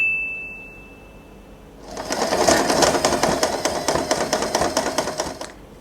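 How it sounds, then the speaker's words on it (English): A sewing machine stitches fabric for a hair bow in one steady, close run lasting about four seconds, its needle clatter rapid and even, with no speech. "we are going to attach this to the center of the bow and sew this part for the last time"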